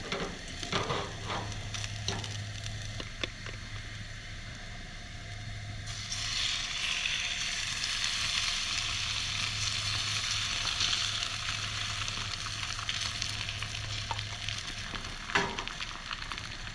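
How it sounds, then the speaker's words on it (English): Hash browns frying in a pan at a riverside campsite give a continuous crackling sizzle that grows brighter and louder about halfway through, over a faint low hum, with occasional soft knocks. "Tim likes his hash browns crispy. So I'm gonna try to let them cook a little more before I put the egg in."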